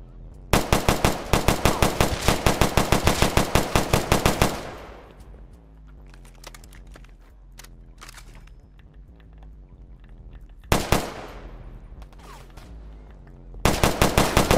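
Roblox full-auto 300 Blackout rifle fire in a Bronx-themed server, loud close bursts of rapid, evenly spaced shots, with a long opening burst, a quieter stretch of scattered shots and echoes, then two more short bursts.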